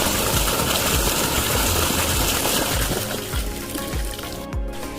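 Water gushes and drains steadily from a home fish tank outlet, a loud, close, continuous rushing flow with faint rhythmic pulses that eases slightly toward the end.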